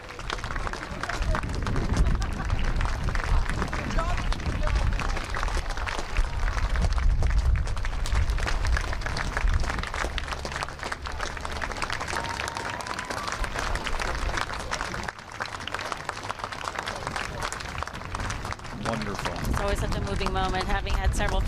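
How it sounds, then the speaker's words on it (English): A crowd at the 2022 Apple Blossom Grand Parade applauding the American Legion as the colors pass, a dense, continuous wash of clapping and cheering mixed with steady parade noise and crowd voices. "Let's listen to the crowd rise to their feet and give applause to the American Legion"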